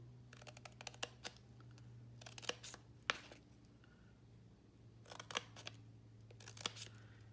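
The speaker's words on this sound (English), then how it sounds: "You're just going to cut just up to the first score line and just trim a little bit off." Scissors snip along a score line of a handmade gift box, several quiet crisp cuts in short bursts separated by pauses, close and soft, with faint steady background hum and no talk.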